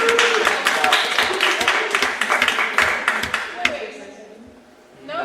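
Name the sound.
people clapping at a meeting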